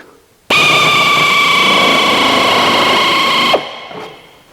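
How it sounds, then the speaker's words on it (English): An air nibbler cuts sheet metal with a loud, continuous, high-pitched buzzing whine. It starts abruptly, holds steady for about three seconds, then stops, and a short hissing tail follows. "So what I'm going to use is an air nibbler. It's a little bit noisy, but quick"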